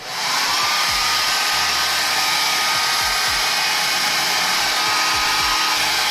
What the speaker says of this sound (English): Just going to go on ahead and blow dry it up.